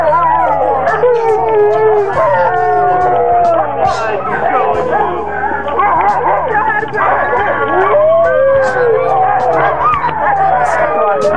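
Sled dogs in the snowy Minnesota outdoors howl and bark together in a dense, continuous chorus of overlapping yips and wavering howls, loud and close throughout.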